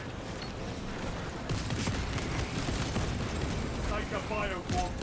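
Frag grenades going off in the Space Marine 2 video game amid a dense, continuous wash of battle noise, with loud booms and gunfire layered over a rumbling roar and a voice heard briefly near the end.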